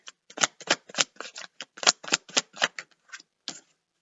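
Tarot cards are shuffled and drawn by hand, a quick run of crisp riffling flicks and snaps in uneven bursts, close and fairly quiet, with no one speaking.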